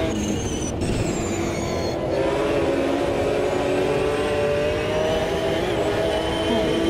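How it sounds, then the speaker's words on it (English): A race car engine in the racing game Automobilista 2 howls steadily at high revs, a continuous loud whine holding pitch with slight upward sweeps, heard alone without commentary. "let you listen to this absolutely howler of an engine"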